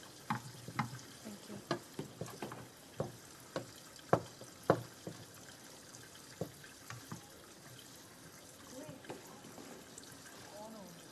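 Parathas fry in a pan in a home kitchen with a steady soft sizzle, punctuated by a dozen or so sharp clinks and scrapes of a utensil, while voices chat in the background.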